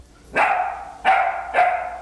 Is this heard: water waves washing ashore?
no